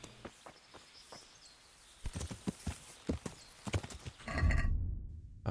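A horse's hooves clip-clop on the ground in the video game Kingdom Come: Deliverance, with a steady run of close hoofbeats that grows louder, then a burst of heavier rustling noise near the end.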